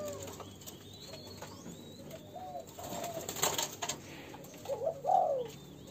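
A pair of Thai spotted doves at a bird-breeding farm near Cao Lãnh, Đồng Tháp gives soft, faint coos toward the end over steady outdoor background noise, with no voices.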